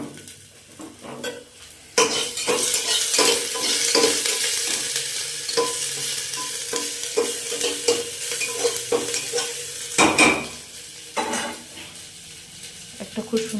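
Ginger and garlic paste fries in a small amount of oil before meat goes in, giving a close, crackling sizzle broken by repeated spatula stirs and scrapes against the pan.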